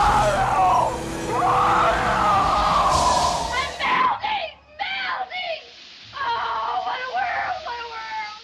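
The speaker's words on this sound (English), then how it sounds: "a mutant alien-human hybrid gets sucked out into space while screaming" A mutant alien-human hybrid shrieks as it is sucked out into space in Alien Resurrection, a loud, sustained wailing scream over roaring wind that breaks into choppy, strained cries.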